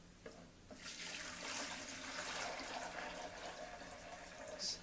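Water from a bucket is poured into a splash pool, a faint continuous splashing and gurgling pour lasting several seconds with no talking.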